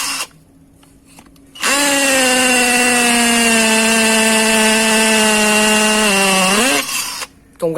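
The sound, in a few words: Dewalt DCD796 cordless hammer drill drilling brick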